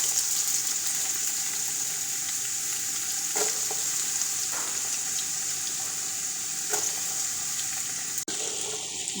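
Chopped onion sizzles steadily in a hot pan, with a few scraping stirs from a utensil breaking through the constant close frying hiss.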